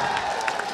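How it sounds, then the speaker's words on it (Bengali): Spectators cheer and clap at a Bangladeshi boxing event, a dense, steady crowd roar with scattered claps and shouts running through the short burst. "আমরা একটা জোরে করতালি দেই সবাই।"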